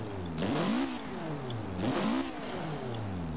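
A Mitsubishi Lancer Evolution engine in Forza Horizon 4 revs hard twice, each burst rising and falling sharply, loud and close with no one talking.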